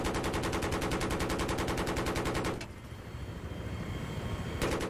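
Rapid automatic weapon fire in Battlefield 3 rattles in a fast, loud, steady burst, breaks off into a quieter noisy lull, then resumes briefly at the end; no voices over it.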